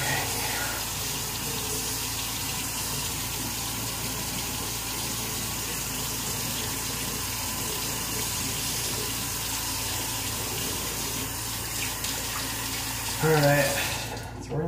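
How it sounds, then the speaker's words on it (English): A bathroom tap runs steadily into a sink for a face rinse after shaving, a continuous splashing water stream that ends with a short burst of handling noise near the end. "let's rinse off in cold water"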